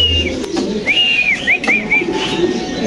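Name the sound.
pigeons at a pigeon farm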